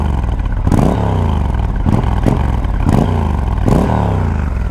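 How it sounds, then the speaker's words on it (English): A Triumph Scrambler 1200XE motorcycle's parallel twin engine idling with a loud, steady burble, revved up in four quick blips that rise and fall back to idle, close up with no talking. "We'll hear this parallel twin come to life. Ooh, chugging along here. Burbling away. I'll give it a couple revs."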